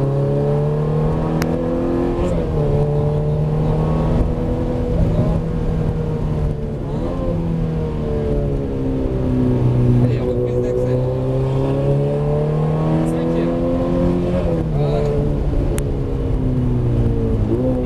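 Car accelerating hard out of corners on a racing circuit during a driving course, engine note rising and falling in repeated sweeps for the whole stretch, loud and close from onboard, with an instructor's voice talking over it at times.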